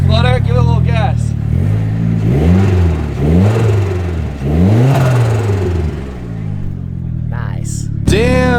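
A Nissan Fairlady engine gets a few quick blips of throttle, rising and falling in three or four loud, close revs over a steady idle, with voices chattering around it.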